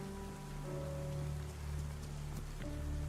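Steady rain pours down in the survival game DayZ, a dense continuous patter on surfaces with low rumbling ambience underneath, alone and consistently loud throughout.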